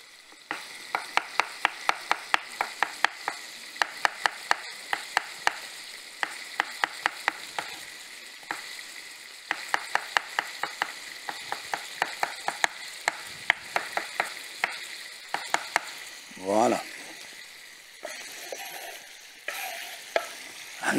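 Garlic cloves frying in a pan with onion and a piece of chicken breast, with a steady sizzle under a long run of sharp, close scrapes and taps from a stirring utensil. No one speaks.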